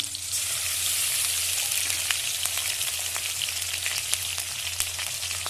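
Onion paste sizzles in hot oil left after frying fish, a steady hissing spatter with scattered small pops and light stirring, close and even throughout, with no speech.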